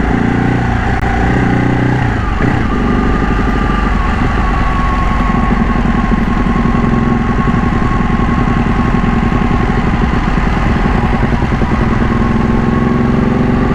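A 2012 Ducati Panigale 1199 Tricolore superbike, modified, is ridden slowly with a jerky low-speed engine, giving a loud, close, constant rumble with a throbbing pulse and an early rise in revs.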